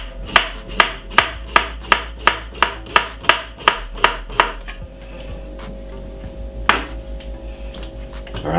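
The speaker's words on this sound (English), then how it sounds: "We're gonna slice up the large cucumber." A large cucumber sliced with a knife on a cutting board: a fast, steady run of about a dozen crisp chops, then a pause and one last chop, close and loud, with no talking.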